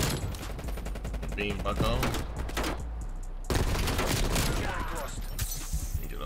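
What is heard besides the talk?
lightning gun firing in the video game Black Ops Cold War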